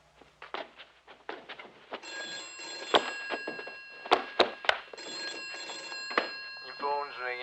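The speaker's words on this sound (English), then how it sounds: "Your phone's ringing." An old telephone bell rings in repeated bursts indoors, loud and close, with people talking between and over the rings.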